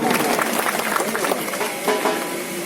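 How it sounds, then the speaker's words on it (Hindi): Applause welcoming an arriving guest at an outdoor Diwali gathering in Taranagar, a dense, steady patter of many hands clapping close by, with crowd noise and a voice mixed in throughout. "जोरदार तालियों से, जोरदार तालियों अभिनंदन साहब को"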